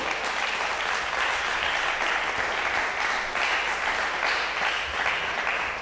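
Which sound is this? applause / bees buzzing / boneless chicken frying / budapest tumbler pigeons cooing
applause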